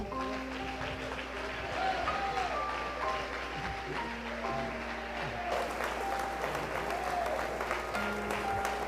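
A church congregation claps and applauds steadily throughout, a dense continuous wash of hands at moderate distance, with a few tonal voices and music faintly underneath.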